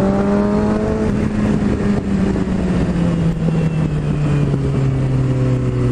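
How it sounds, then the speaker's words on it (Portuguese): Motorized road traffic in Natal rumbles nearby on a Monday, with a steady engine drone whose pitch slowly falls as vehicles move past. "Olha o trânsito dessa segunda-feira"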